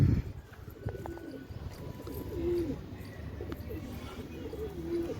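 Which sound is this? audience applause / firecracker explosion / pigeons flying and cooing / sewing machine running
pigeons flying and cooing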